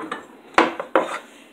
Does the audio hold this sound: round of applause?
no